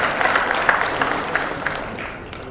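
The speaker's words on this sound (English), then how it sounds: "can we have a big round of applause for Jacqueline Fernandes?" An award ceremony audience applauds steadily, a dense wash of clapping that fades gradually toward the end, with no voice over it.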